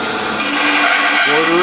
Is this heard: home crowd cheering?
no